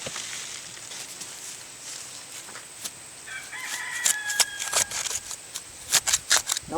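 A rooster crows outdoors at the edge of a backyard garden during potato harvesting, a fairly distant call rising partway through, with scattered clicks and rustles nearby and no talking.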